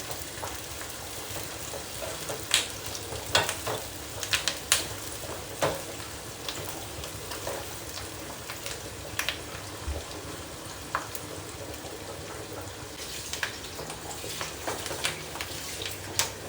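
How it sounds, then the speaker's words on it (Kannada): Curry leaves frying in hot oil as the final tempering for a kalale (bamboo shoot) sambar, giving a steady low sizzle broken by scattered sharp crackles and pops, with no talk. "ಲಾಸ್ಟಿಗೆ ಕರಿಬೇವು ಇಷ್ಟು ಹಾಕೊಂಡು ಸ್ವಲ್ಪ ಫ್ರೈ ಮಾಡಿ ಸಾಂಬಾರ್ಗೆ ಹಾಕೊಂಡ್ಬಿಡೋಣ"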